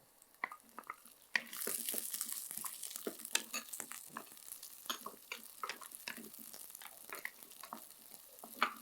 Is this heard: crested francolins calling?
no